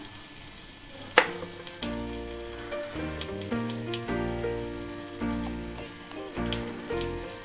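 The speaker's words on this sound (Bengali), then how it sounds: "তেলটা গরম হয়ে গেছে, এবার আমি মশলাগুলো দিয়ে দেবো পরপর। জিরে গুঁড়ো দিলাম," Ground cumin hits hot oil for a drumstick-flower sabji and sizzles with a soft, steady crackle under louder tonal music, with a few sharper pops along the way.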